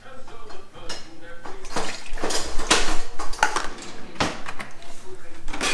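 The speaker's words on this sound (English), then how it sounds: "No, you use a whisk." Pudding mix and milk are whisked together in a bowl, giving a steady metallic clatter and swishing that is loud and close. Voices talk over the sound now and then.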